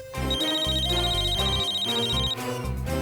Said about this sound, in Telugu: నాకు ఫోన్ వచ్చింది.